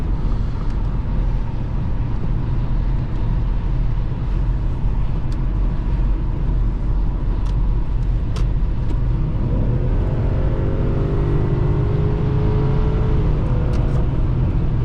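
A 2009 Lexus LS460 AWD accelerates to pass on the road, its engine note rising steadily under constant road and wind rumble, heard from inside the cabin with no talk.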